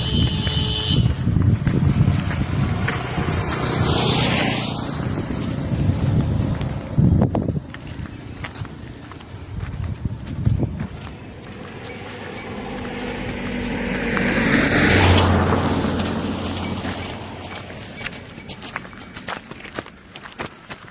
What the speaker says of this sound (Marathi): गाड्या भरपूर जोरात वाटतात.